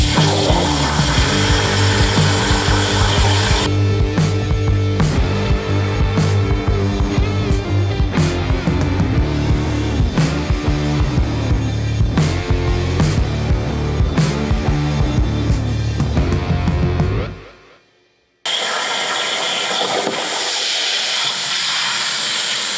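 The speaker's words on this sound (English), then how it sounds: "I am now band sawing some 2x2." A 14-inch band saw whines steadily with harsh, hissing noise through a long cut in 2x2 wood, stopping briefly before the motor starts up again.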